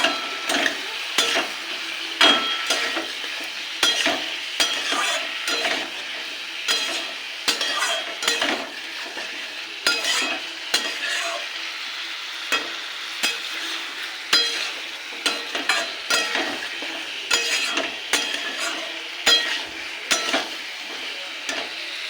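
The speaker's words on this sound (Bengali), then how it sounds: "পরিমাণ মতো লবণ হলুদ গুঁড়ো জিরে গুঁড়ো লঙ্কা গুঁড়ো এটা ভালো কষে নেব" Fish head sautéed in a pan with salt, turmeric, cumin and chili powder, stirred steadily: repeated scraping strokes of a spoon over a constant close sizzle, with no voices.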